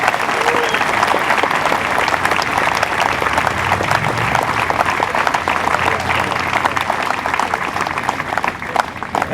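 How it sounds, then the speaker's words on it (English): Spectators at a Memorial Day parade applaud the grand marshals, a loud, dense burst of clapping mixed with crowd murmur and scattered voices, continuous for about nine seconds. "So give them a round of applause for our Grand Marshals."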